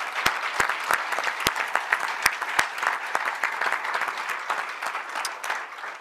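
An audience claps steadily at a public event, a fairly close, textured stream of applause with several sharp, distinct hand claps standing out near the microphone, continuing without pause.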